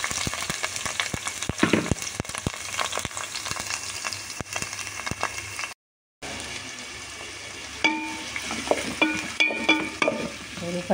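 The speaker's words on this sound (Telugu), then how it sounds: "ఉల్లిపాయలు వేగటానికి" Onions and curry leaves fry in hot oil, a steady sizzle with repeated scraping and stirring strokes of a spoon in the pan, a brief silent gap partway, then louder clattering stirs.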